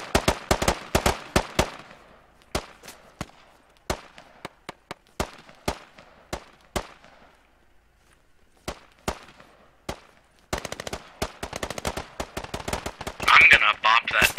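Rifle fire cracks across a battlefield in the Squad military shooter, with rapid bursts early, then spaced single shots, a short lull, and a dense volley at the end, while a voice speaks near the close.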